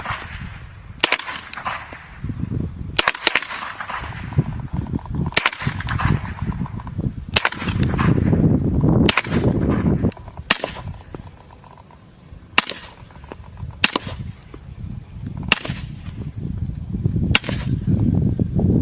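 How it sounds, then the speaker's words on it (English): M9A3 pistol gunshots, suppressed and unsuppressed, with different kinds of ammunition. About ten sharp, loud reports ring out outdoors at fairly regular intervals of a couple of seconds, with a low rumble between shots. "So that was the M9A3, or the suppressed pistol, both suppressed and unsuppressed with different kinds of ammunition."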